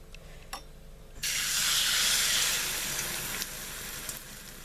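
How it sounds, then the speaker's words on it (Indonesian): Omelette egg batter poured into a hot pan bursts into a loud, steady sizzle that holds for a few seconds before easing slightly, continuing as a close, even hiss with no talking. "kita akan goreng atau kita akan buat telur dadarnya terlebih dahulu"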